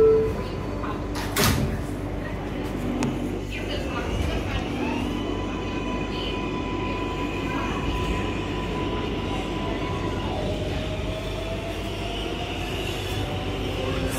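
Doors slide shut on a Flushing local subway train at Vernon Jackson Avenue with a thud, followed by a steady rumbling of the car and a rising motor whine, under a recorded announcement.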